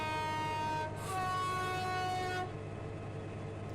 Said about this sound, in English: there's the horn of the Class 66, a rather impressive horn accent